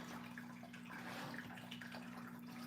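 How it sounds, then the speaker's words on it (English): Water sprayed heavily onto a watercolor painting, a continuous close hiss and spatter that runs unbroken, with a low steady hum beneath it. "when I spray water on here, I am using quite a bit"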